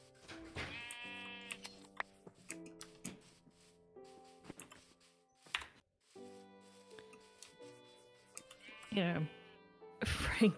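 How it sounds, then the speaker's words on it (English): Sheep in the Minecraft video game bleat repeatedly in short wavering cries over background game music, with a player talking alongside at moderate volume. "Come on, sheep, eat more grass."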